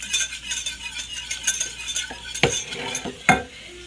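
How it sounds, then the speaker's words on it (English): A whisk stirs ugali ingredients together in a pot over a cold stove, making a soft scraping swish with a few sharp clinks against the metal near the end. "I'm just whisking it to mix them together first. This is to make our ugali."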